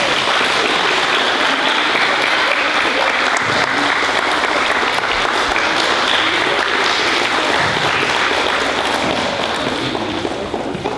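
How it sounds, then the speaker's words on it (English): A school audience at a fifth-grade recognition day applauds steadily for the full length, a dense, loud wash of clapping that stays even from start to finish. "Applause, please,"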